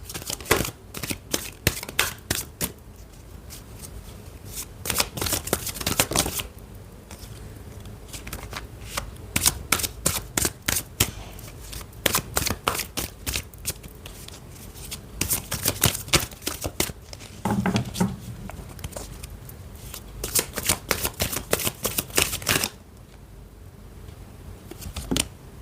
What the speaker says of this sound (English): let's move to the tarot cards and see what how the week for you is gonna go